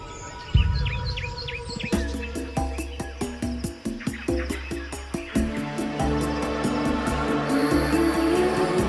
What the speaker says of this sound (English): I love listening to birdsong, like the sounds of the forest.